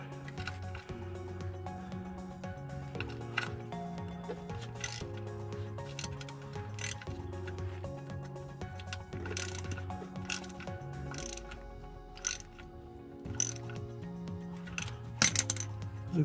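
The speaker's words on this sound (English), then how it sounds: "let's go back to tightening this drain plug bolt" A ratchet tightens the transmission drain plug bolt on a 2013 Chevrolet Malibu, giving a steady run of fast clicking ratchet strokes that goes on for the whole stretch under a faint low hum.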